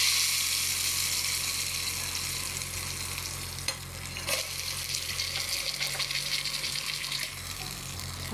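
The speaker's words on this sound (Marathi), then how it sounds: "मोहरी छान तडकते. आता आपण देऊया तडका." Mustard seeds and curry leaves sputter and crackle in hot oil in a pot for a tadka, a dense steady sizzle with fine pops running throughout and a few sharper crackles, with no talking.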